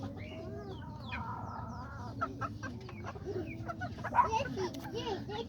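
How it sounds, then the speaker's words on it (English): A rooster and two small hens cluck close by in a yard, soft intermittent clucks and calls over a steady low background murmur. "That one rooster and the two little hens right there."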